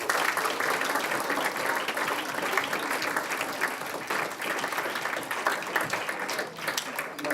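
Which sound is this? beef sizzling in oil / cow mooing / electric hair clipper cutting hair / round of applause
round of applause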